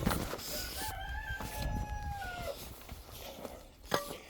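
A rooster crows loudly nearby, one long drawn-out call that rises and trails off, with outdoor noise and a brief thump afterward.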